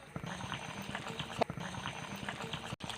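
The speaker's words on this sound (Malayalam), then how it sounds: "ഇതിന് നന്നായിട്ട് തിളച്ച് വരട്ടെ" Fish curry with pickle, salt and water bubbling as it boils in a pot, a steady close simmer with soft popping bursts and a few louder bubbles.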